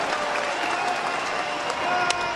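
A crowd of more than 17,000 at a baseball stadium cheers and applauds, a dense and steady roar of clapping that fills the whole stretch.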